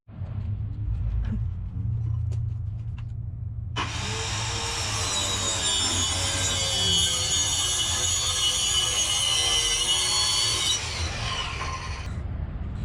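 A saw cuts a wooden door down to size, trimming it slightly narrower for hanging. A loud, steady rasping cut runs for about seven seconds after a low background hum, then stops, with no talking.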